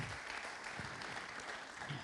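Sustained audience applause fills the hall at the opening of the Aéroforum 2024 conference, a dense, steady patter of many hands clapping at once, fairly loud and continuous with no pause.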